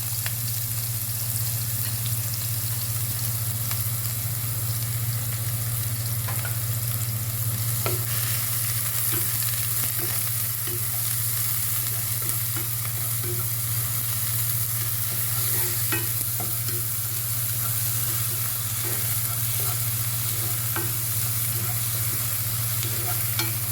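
Thinly sliced onions fry in a pan for a green chilli chicken dish, a steady broadband sizzle with scattered clicks and scrapes of a utensil stirring them, loud and continuous with no talking.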